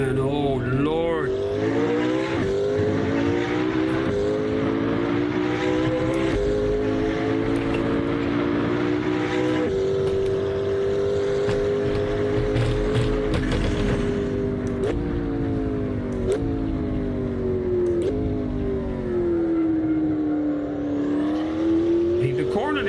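Turbocharged race car engine in the Assetto Corsa racing game, a loud continuous drone rising and falling in pitch through gear changes, with someone talking over it throughout.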